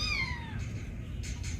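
A very small cat gives a single soft, rising-then-falling meow, followed by a couple of faint short squeaks, quiet and close, with no talk.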